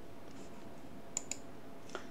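Arrow keys on a computer keyboard pressed a few times, giving three soft, separate clicks against a quiet room background.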